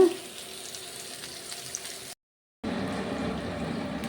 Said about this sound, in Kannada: ಇದು ಮೀಡಿಯಮ್ ಫ್ಲೇಮಲ್ಲಿ ಈ ಥರ ಫ್ರೈ ಆಗ್ತಾ ಇರಲಿ